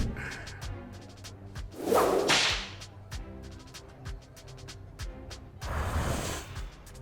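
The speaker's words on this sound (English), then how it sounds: "Peaches really responded well to the crack of the whip." A bullwhip cracks with a loud whooshing lash in the video game Lil Guardsman, set against rhythmic game music, and a second swishing crack follows later.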